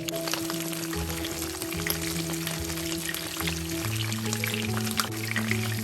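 Onion, shallot and lemongrass fry in half a cup of hot oil in a pan for a bún bò Huế broth, giving a steady, moderately soft sizzle that crackles continuously throughout.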